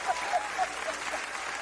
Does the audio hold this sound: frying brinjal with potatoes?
no